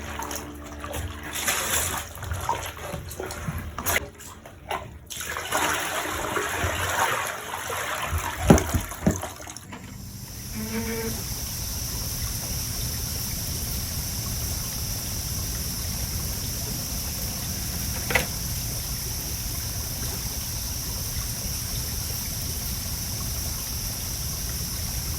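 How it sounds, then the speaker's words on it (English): Kimono fabric is washed and rinsed in water, with sloshing and splashing up close for about ten seconds, followed by a steady running-water rush that continues evenly to the end. "Then I gave it a good wash and rinse before hanging it in the shade to dry."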